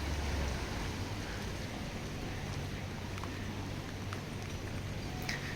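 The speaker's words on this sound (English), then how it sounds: "This is the second time that it's raining for months now." Steady rain falls in a soft, even hiss outside St. James Church in Medjugorje, with occasional faint drips and a low rumble beneath.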